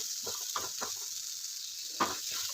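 Coconut sautés in a pan with a faint steady sizzle. Several short scraping stirs with a spatula cut through it, and nobody talks.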